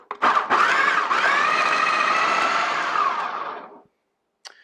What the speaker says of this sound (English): I'm just going to go ahead and throw this as French bread in my food processor here